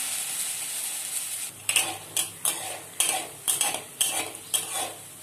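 Potato wedges fry in hot oil over a gas flame, giving a steady high sizzling hiss. A utensil clacks and scrapes against the pan in a quick, regular series of strokes close by, with no voices.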